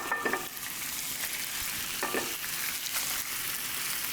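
Beef hitting a hot stir-fry pan for basil beef, a steady loud sizzle and frying hiss with a few stirring scrapes across the whole stretch.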